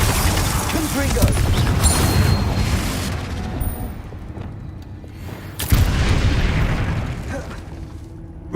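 Spell blasts from Hogwarts Legacy's Confringo fire explosion, a loud booming burst with rumbling low end at the start and another sharp blast near the middle, each trailing off amid busy game effects.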